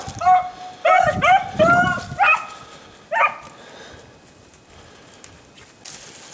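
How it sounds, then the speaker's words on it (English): Beagle hounds running and barking outdoors, a burst of several overlapping barks and yips over the first few seconds, then one more bark before fading to quiet ambience. "So this is what Beagles look like."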